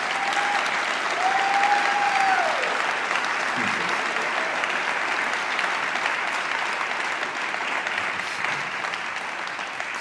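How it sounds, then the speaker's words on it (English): A packed audience at a 2023 State of the County address claps continuously and steadily throughout, a thick, even roar of applause with a faint tone briefly audible near the start. "Give him a round of applause."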